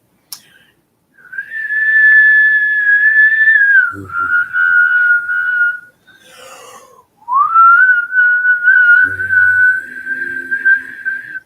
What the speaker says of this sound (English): I can't hum and whistle at the same time